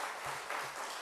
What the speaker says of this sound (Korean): 여기 어르신들을 위해서 박수 한번 쳐드립시다.